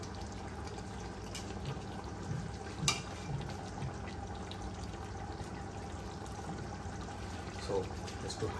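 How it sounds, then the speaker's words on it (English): Two liters of water poured into a large pot of mutton biryani holding 2 kg of mutton and 2 kg of rice, a steady broad splashing wash that runs throughout at moderate level with a couple of brief louder spikes. "I'm adding 2 liters of water."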